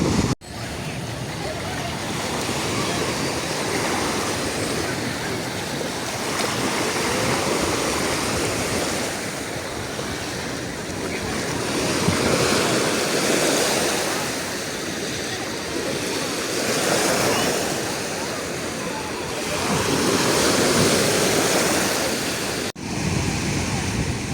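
Sea waves at Rimini roll and wash onto the shore in a steady, broad roar that swells and eases, loud and close.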